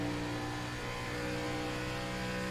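Race car engine in a sim racing game, an onboard view at Darlington, holds a steady loud drone with strong harmonic tones throughout, a continuous high-revving whine with no break.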